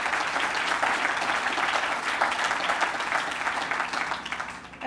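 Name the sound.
audience applause at dedication ceremony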